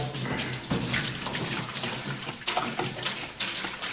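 Petroleum-based solvent, about seven gallons, pours steadily into a parts washer tank, a continuous splashing liquid rush with small surges, close and fairly loud.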